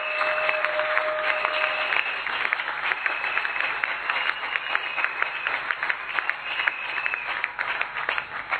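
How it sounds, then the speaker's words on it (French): A church congregation applauding loudly and steadily for several seconds, a dense wash of many hands clapping with a few sharper claps standing out nearby. "Nous acclamons très fort le Seigneur."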